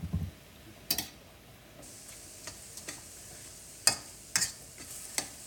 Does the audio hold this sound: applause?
no